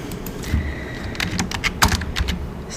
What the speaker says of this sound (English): So again, we're typing in